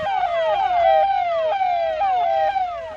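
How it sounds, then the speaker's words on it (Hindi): A loud wailing siren from forest department vehicles cycles repeatedly, rising and falling every half second or so, close by with no other sounds. "शाम होते ही वन विभाग की गाड़ियां सायरन बजाते हुए ऐलान करने लगती हैं।"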